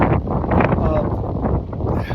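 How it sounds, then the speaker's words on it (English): Strong wind roars and buffets the microphone in continuous loud gusts on a high mountain at about 5,000 feet on the Appalachian Trail. "As you can tell, it's really, really windy."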